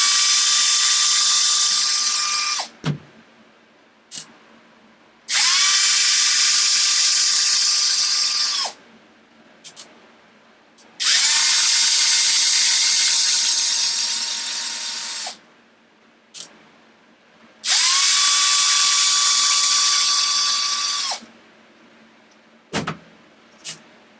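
A small power screwdriver backing out the four screws of an Arrma Felony RC car differential, four separate whirring bursts of about three to four seconds each with short pauses and faint clicks between, close and clear with no talking.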